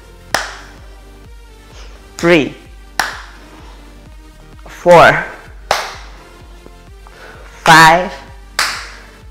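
Loud hand claps ring out during a core workout, each burst sharp and bright between spoken counting, several separate claps spaced a couple of seconds apart.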